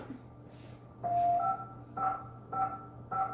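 A home alarm system keypad gives a series of short electronic tone beeps as it is disarmed: one longer tone followed by three evenly spaced beeps, fairly close and clear.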